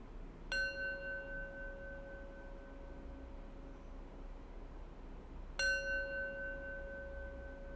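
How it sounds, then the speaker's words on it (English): A small bell closing a breathwork practice rings twice, each a clear bright strike with a long sustained tone fading slowly in a quiet room, about five seconds apart. "I'm going to close practice with 3 rings of the bell."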